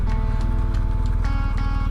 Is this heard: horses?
yes